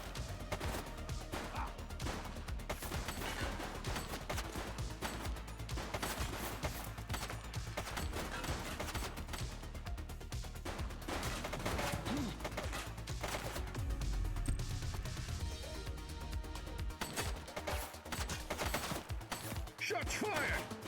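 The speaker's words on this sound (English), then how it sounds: "Shots fired!" Dense gunfire fills a fight in The Precinct, with rapid repeated shots and crashing impacts, loud and nearly continuous over a rumbling game soundtrack.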